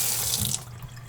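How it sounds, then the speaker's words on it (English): Cold tap water gushes into a container in a steady, close rush that eases slightly toward the end, with no voices. "So for filling, I use cold water only."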